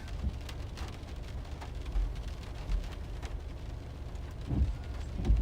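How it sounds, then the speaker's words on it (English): Deep thunder rumbles swell repeatedly through steady rain during a severe hailstorm over Northwest Arkansas and Southwest Missouri, with louder booming surges near the end. "Hear it now. Big rumbles."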